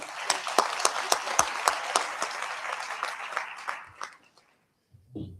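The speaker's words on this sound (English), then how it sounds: "let's give him another round of applause" Audience claps for a guest at a Kappa Alpha Psi fraternity event, steady close applause with sharp individual claps, tapering off after about four seconds into near silence before a faint voice.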